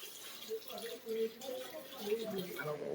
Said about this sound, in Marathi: बघू शकता तुम्ही आता पाणी टाकताय इथं